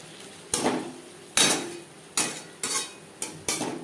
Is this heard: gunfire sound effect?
no